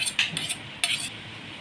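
Yogurt is mixed into pizza dough in a bowl, with a few bright metallic clinks of a utensil against the bowl and soft stirring between them, heard close with no talking.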